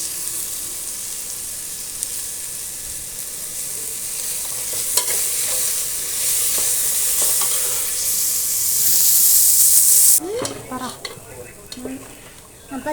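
Onions sautéing in a pan for tomato rice, stirred with one hand: a continuous frying sizzle with utensil scrapes. Near the end the hiss swells briefly, then gives way to clatter and handling noise.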